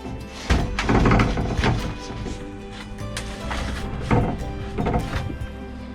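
A wooden cupboard inside a hurricane-damaged catamaran, slotted and glued into the floor, is pried and pulled loose, giving repeated close, heavy thunks and knocks in clusters with creaks and scrapes between them.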